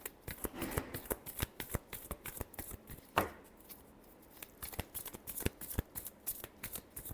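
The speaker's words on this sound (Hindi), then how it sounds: "लिब्रा के लिए लास्ट शफल" Tarot cards shuffled by hand in rapid, close crisp flicks and riffles, with a steady run of sharp card snaps over about seven seconds and one brief pause midway.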